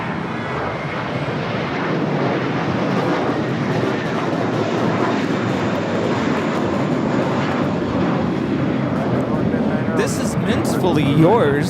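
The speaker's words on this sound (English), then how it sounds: "taking off to JFK. It's JetBlue 224 on an A321." A JetBlue Airbus A321 takes off at Los Angeles airport, a continuous, loud jet roar filling the whole stretch, with people talking over it.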